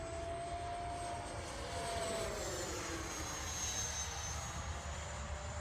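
An FMS 80mm F-86 Sabre RC jet roars steadily overhead, its whining turbine pitch gliding slowly as it passes, loud and continuous with no voices.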